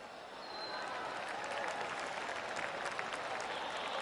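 Polite golf-style crowd applause from a video game golf round, building from quiet to a steady, even patter of many hands that holds to the end.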